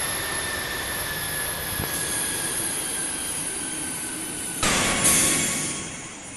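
Airliner jet engine in the Infinite Flight Simulator game, a continuous steady whine and roar with high tonal hum, briefly interrupted by a click and then a louder surge of noise near the end.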